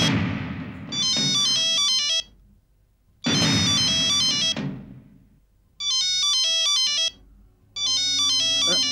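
Mobile phone ringtone plays in repeated bursts of bright, bouncing electronic notes, loud and close, with short pauses between bursts and a whooshing sound effect at the start of some.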